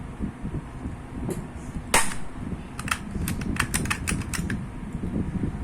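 An airsoft gun is dry-fired near the mic: one sharp snap, then a quick string of lighter mechanical clicks over steady room hum.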